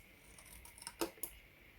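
Scissors snipping craft paper while making a mini chest of drawers: a few quiet, short snips close by, the last two sharpest, with no talk over them.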